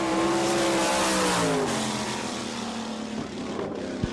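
A sprint car, number 23S on a J&J chassis, runs a qualifying lap on the Barberville, Florida dirt track in an All Star Circuit of Champions event, its loud engine droning and dropping in pitch as it sweeps past and fades.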